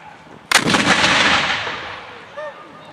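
A cannon fires at night during a Fort Macon 150th anniversary battle reenactment: one loud, sharp boom that rolls into a long rumbling echo fading over a couple of seconds.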